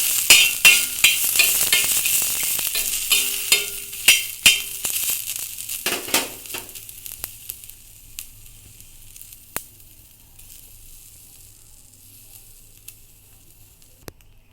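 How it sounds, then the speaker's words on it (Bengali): Garlic dry roasting on a tawa with no oil, sharp crackling and scraping taps from stirring that are loud at first, then fade to sparse, faint clicks as the pan quiets. "সব কিছু শুকনোই ভেজে নিব আমি।"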